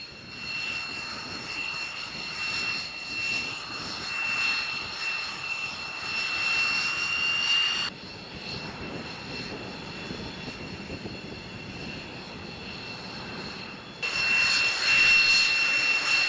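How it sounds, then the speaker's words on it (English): Aircraft engine noise drones steadily with a high whine above a broad roar, dropping abruptly in level partway through and swelling back near the end, as if from a turbofan-powered X-47B drone on a Pratt & Whitney F100; no voices. "aircraft receives power from a Pratt & Whitney F100 turbofan engine"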